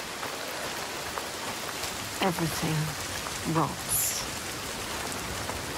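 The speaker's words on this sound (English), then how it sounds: "The rain never stops." Steady rain falls in the game Senua's Saga: Hellblade II, a constant close hiss heard alone and then under a few lines of spoken dialogue.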